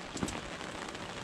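Rain falls outdoors at a lake while fishing for catfish from a boat, a short burst of dense, even patter with a slightly louder splash near the start, no one talking.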